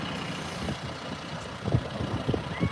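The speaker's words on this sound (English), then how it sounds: "Hoping this tractor will move in a minute" Tractor engine idling nearby on a beach, a low uneven rumble with periodic chugging pulses and wind buffeting the microphone.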